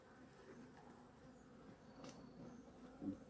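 Crazy honeybees buzz steadily around a hive on a summer day, a quiet continuous drone with a few faint clicks and a brief knock near the end.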